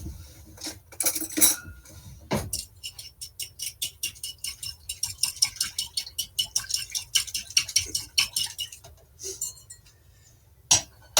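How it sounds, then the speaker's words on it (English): Feta sauce gets whisked in a bowl, a rapid run of light metallic ticks and clinks in a steady rhythmic burst, close and fairly crisp, with a few louder knocks at the start and end. "I'm going to give this a little whisk"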